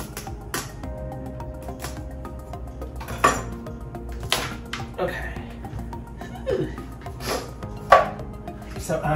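A sharp knife cuts through a tough spaghetti squash on a board with a series of irregular chops and thuds, some clinks among them, close up while a person talks and chuckles throughout.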